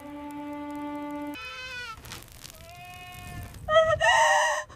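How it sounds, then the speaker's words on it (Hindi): Awassi sheep bleating in a series of wavering, harmonic-rich calls of varying pitch, with a louder, harsher bleat near the end; no talking. "तालूत, हमारे पास अवासी नस्ल की भेड़ें मौजूद हैं"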